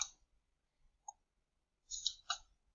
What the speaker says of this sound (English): Once you've made your account, click New, then just click Slide Deck.